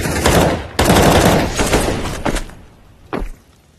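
Bursts of rapid gunfire in Counter-Strike, loud and dense, cutting off abruptly, then a lone sharp crack after a short quiet gap.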